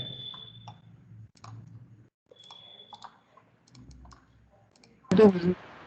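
Light, scattered clicks of keystrokes on a computer keyboard during an online BIM software training session, faint and irregular, with a short burst of a voice speaking near the end.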